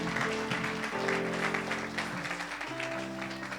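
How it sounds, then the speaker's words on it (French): A church congregation applauds and cheers for Jesus during a worship service. Steady, dense clapping continues throughout, blended with sustained keyboard or organ chords. "acclame pour Jésus"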